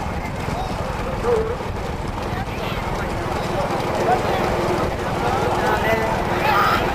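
Bulls pulling carts in a bullock cart race in Thoothukudi run along a road, giving a dense, steady clatter of hooves and wheels that carries on for the whole stretch, with voices underneath.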